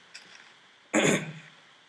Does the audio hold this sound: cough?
yes